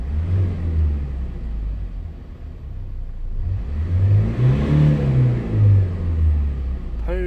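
A 2014 Hyundai Grand Starex engine is revved from idle with the accelerator pressed, a close low rumble swelling into a couple of rising and falling revs, then dropping back, with no talking.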